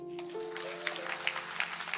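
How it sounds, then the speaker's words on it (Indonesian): A few sparse claps from a small church congregation, faint and spaced out over sustained background tones, like only a couple of people clapping. "Tepuk tangan cuma 2 orang lah."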